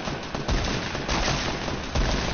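Rapid automatic gunfire in the Fortnite battle royale game, loud bursts of rifle shots firing in quick succession with heavy thumps recurring every half second or so, with no talking.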